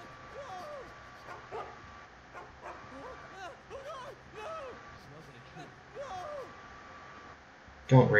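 A dog in the stealth game Mark of the Ninja gives a run of short yips, barks and whimpers under steady game ambience, ending in a sudden loud burst.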